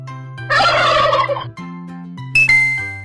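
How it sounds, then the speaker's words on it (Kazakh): A turkey gobbles loudly and close by, one long rattling gobble followed by a shorter burst, over a steady background tone. "Күрке тауық."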